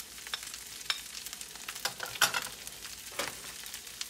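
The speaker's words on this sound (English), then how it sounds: "I'm just going to stir that around and I'm going to saute it for about 4 minutes." Oil-packed sun-dried tomatoes, chopped Kalamata olives and chopped garlic sauté in a pan for a vegan frittata. A close, crackling sizzle is broken by scraping stirs that come in irregular bursts.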